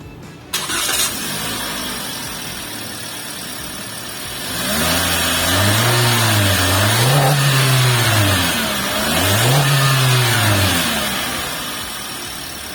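A red 2022 Daihatsu Xenia with a 1500cc engine cranks and fires up, settles, then revs twice in rising and falling swells before easing back, close and loud with no talking.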